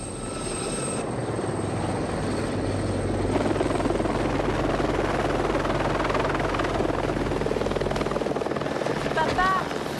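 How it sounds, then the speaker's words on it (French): A police helicopter's rotor and engine thunder loud and steady overhead for the whole stretch, a constant heavy whirring drone with faint voices mixed underneath. "C'est un hélico de la police."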